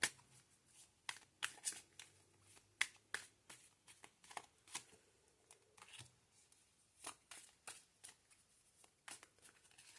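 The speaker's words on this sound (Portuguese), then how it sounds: "deixa eu tirar mais duas cartas aqui" Tarot cards being drawn and handled, soft, close papery flicks and slaps in irregular bursts against a quiet background.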